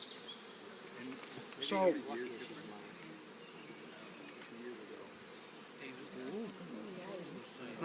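Honeybees buzz around a brood frame during a beekeeping club meeting, a steady close insect hum running throughout while someone talks over it.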